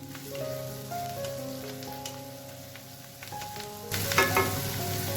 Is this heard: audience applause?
no